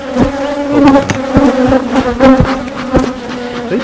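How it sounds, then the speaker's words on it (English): Honey bees buzz loudly and close around the top of a hive, with a dense, continuous droning hum and sharp passes as individual bees fly right past. "There's bees like stinging the top"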